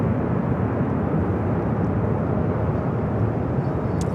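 A LOT Polish Airlines airliner arrives from Warsaw at Los Angeles International Airport, a steady broad jet rumble and roar heard from a moderate distance without talk.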